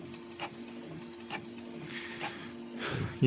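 A Canon Pixma G3411 inkjet printer prints in colour, its print head whirring back and forth in steady, evenly spaced passes with a low mechanical hum, heard close up and alone.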